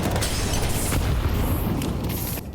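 Grenades explode on the Overpass map in Counter-Strike, a loud continuous rumbling boom with a few sharper bursts during an ESL Impact League match.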